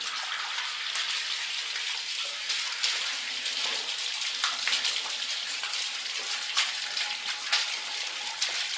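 A 12V DC micro hot water pump, model 50C-1240S, running submerged, giving a steady close bubbling and gurgling wash of water with small irregular splashy pops throughout, no voices.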